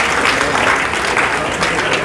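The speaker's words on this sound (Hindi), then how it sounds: "मनभरी देवी जी का तालियों की गड़गड़ाहट में कोई कमी नहीं रहनी चाहिए" An audience claps steadily and loudly at an inauguration ceremony for a road project in Rajasthan. The applause is a dense, continuous patter with no speech over it.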